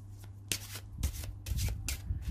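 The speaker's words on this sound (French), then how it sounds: "On va bien mélanger les cartes." Tarot cards being shuffled by hand in several quick riffling bursts, fairly close and clear, with short pauses between passes and a low steady hum underneath.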